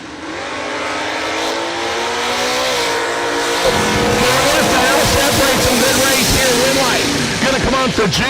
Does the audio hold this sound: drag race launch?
yes